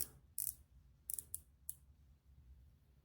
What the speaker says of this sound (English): It has really nice bezel action, really good clicks.